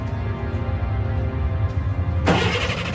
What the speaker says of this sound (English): The truck's engine started.